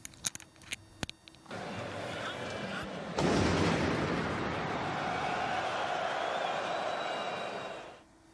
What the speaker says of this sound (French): la vidéo où l'on entend la première explosion justement en novembre